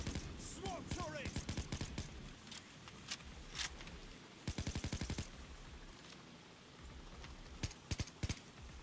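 A SWAT turret in a shooter video game fires repeated rapid bursts, sharp clusters of loud shots in quick succession with gaps between volleys, some isolated single shots and a brief voice early on.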